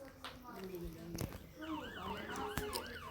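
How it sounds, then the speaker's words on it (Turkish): A wailing police car siren in Roblox Brookhaven rises and falls in the background, with gasps and a few sound effects mixed in. "Polis arabasının sağ sesleri geliyor."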